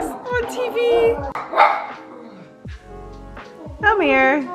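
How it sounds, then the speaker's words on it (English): A dog growls and barks at dogs on a TV, sharp yips and barks mixed with TV dog sounds and a person talking. "She's growling at all the dogs on TV."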